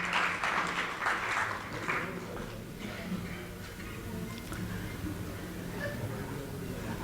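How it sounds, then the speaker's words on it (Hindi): An audience at the inauguration of the Rang Rajasthan theatre and folk festival bursts into applause, loud clapping at first that thins and fades into a softer murmur of scattered claps and crowd noise. "एक बार जोरदार तालियां सभी बाल साहित्यकारों के लिए।"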